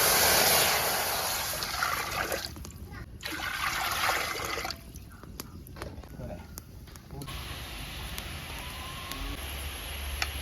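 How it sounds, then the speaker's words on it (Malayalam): A continuous splashing rush of water pouring into a cooking pot on a stove, loud and close, with brief pauses and a low hiss throughout. "നമ്മുടെ അരി വേകാൻ ആവശ്യമായ വെള്ളം ഒഴിക്കണം"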